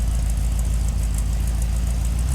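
A Ford Sunliner muscle car engine idles steadily, a deep low rumble holding constant and close throughout with no revving.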